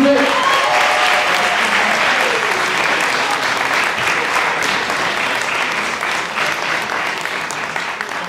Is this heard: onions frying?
no